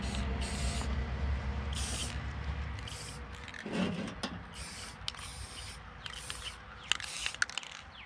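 Spray paint applied to Jeep Cherokee XJ trailer hitch parts, several close hissing bursts of aerosol in short repeated blasts, with light scraping and clicks between them and no talk.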